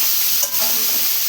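Cabbage and potatoes are stirred together in a hot pan, a brief close scraping stir over continuous sizzling.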